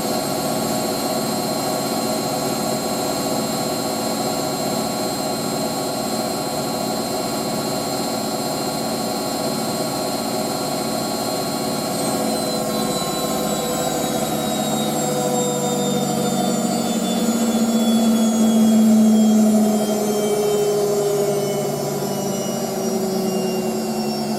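An April 1986 Hotpoint 9530 Electronic 1000 Plus washing machine spins at 1000 RPM, a steady loud whine and hum that holds on continuously with slowly shifting pitch and a slight swell near the end.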